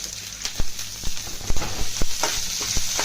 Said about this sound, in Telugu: చూసారండి పోపు ఎలా వేగింత